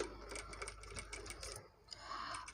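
A sewing machine runs in short rapid bursts while stitching potli balls onto a neck border, its clattering needle speeding up and pausing briefly, close and steady.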